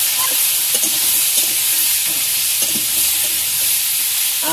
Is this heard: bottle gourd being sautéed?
yes